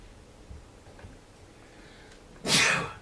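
A single sharp sneeze bursts out in a quiet radio-show studio after a few seconds of near silence with faint ticks.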